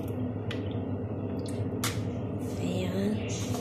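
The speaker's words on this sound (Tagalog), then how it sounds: "lagyan ko ng tubig dito" Tap water pours into a cooking pan at home in a steady wet trickle with dripping and splashing, close by, while a steady low background hum runs underneath.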